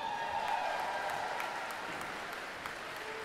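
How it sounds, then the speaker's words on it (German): A short burst of audience applause for the stage setup helpers on the main stage of a cosplay contest, fairly even and moderately loud over a faint tonal hum. "ein Applaus für unsere Aufbauhelfer!"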